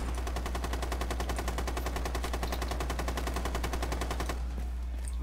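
A light machine gun in Rainbow Six Siege fires a long, rapid, evenly paced burst, loud and close, then cuts off abruptly near the end.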